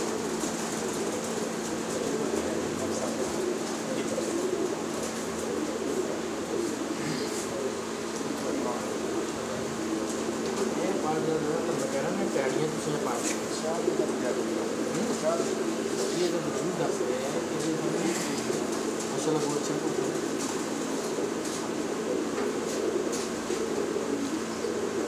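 Pigeons coo softly inside a pigeon shop, with repeated low cooing over a steady background hum and murmur, moderate and continuous throughout.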